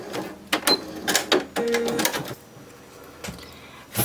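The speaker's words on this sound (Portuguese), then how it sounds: "Feito toda a costura do nosso desenho, você vai cortar" A sewing machine stitches the seam of a toy bunny's ear and head in short, loud mechanical bursts with brief pauses between runs, close to the listener and without speech.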